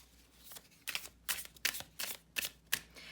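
Tarot cards are shuffled by hand at close range, a quick run of about eight crisp riffling bursts with short pauses between them, quiet and alone.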